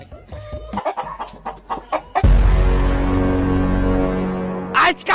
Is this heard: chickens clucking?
yes